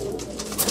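Black pigeons kept as breeding pairs coo softly in a short, close burst, a steady low murmur with a slight swell toward the end.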